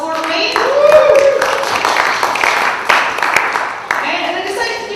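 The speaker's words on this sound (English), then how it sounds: "Give yourselves a round of applause for me." A comedy show audience applauds continuously, a dense wash of many hands clapping that stays loud for the whole stretch, with a voice rising over it at times.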